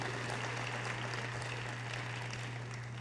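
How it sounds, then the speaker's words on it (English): A church congregation clapping together for the reading of the word, a dense steady wash of hands throughout, moderately distant, with a low electrical hum running beneath. "Will you clap your hands for the reading of the word of the Lord here on tonight?"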